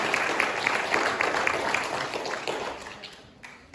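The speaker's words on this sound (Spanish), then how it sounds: "Démosle un aplauso a nuestra hermana Juanita" Applause from a church congregation at a Spanish-language sermon, steady dense clapping throughout that fades slightly near the end.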